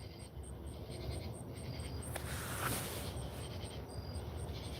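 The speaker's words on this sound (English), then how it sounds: "Them and the crickets kind of sounds relaxing to me." Crickets chirp steadily at night, a dense high pulsing trill running the whole time over a low rumbling outdoor background, fairly loud and with no voices.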